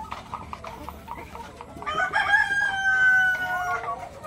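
Chickens including egg-laying hens, with a rooster crowing loudly nearby, drawn-out wavering calls over softer background clucking on a farm.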